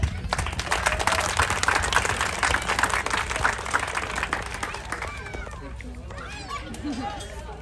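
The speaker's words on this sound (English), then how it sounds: "Let's give them a big round of applause." Audience applause for young showmen at a county livestock show, dense clapping spread across a crowd, strongest at first and thinning toward the end, with chatter and a voice rising over it.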